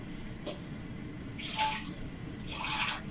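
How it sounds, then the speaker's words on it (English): A little water poured into thick cream for a creamy spaghetti sauce, heard as two short, soft splashing pours over a quiet kitchen background. "I'm going to be diluting it with a little bit of water, just a little bit of it"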